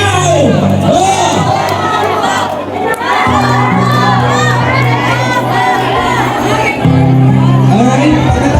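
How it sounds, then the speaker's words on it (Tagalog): A large crowd at an outdoor political rally in the Philippines shouts and cheers loudly and continuously, with children's voices and whoops mixed in, while amplified music plays underneath throughout. "anong sigaw!"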